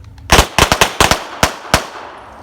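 Pistol shots from a shooting class crack out loud and close in a rapid, uneven burst of about nine reports within a second and a half, each ending in a brief ring, with no talking.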